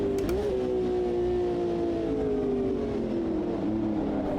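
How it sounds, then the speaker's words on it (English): A 1960s racing car in the game Automobilista 2 braking and shifting down, its loud, steady engine drone sagging in pitch with small dips at each gear change. "I am going to brake and go down a gear for this"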